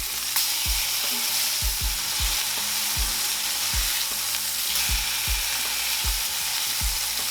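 Flour-coated pork cube steaks fry in a pan with a steady, loud sizzle, broken by several sharp clinks of a utensil against the pan at irregular intervals, with no talking.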